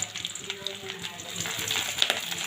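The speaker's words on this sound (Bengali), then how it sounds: "মাছের তেল ভাজা হচ্ছে জ্যান্ত মাছের তেল আর এর মধ্যে একটু ডিমও আছে" Fish oil and fish roe fry in a pan with a steady, close crackling sizzle and a few sharper spits and pops, with no voices.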